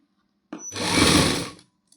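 A sewing machine stitches through suit fabric in one short burst. The motor whirs up quickly, holds a steady buzzing run for about a second, then stops, with a tiny click after it.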